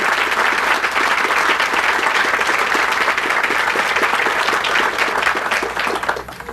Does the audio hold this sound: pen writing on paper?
no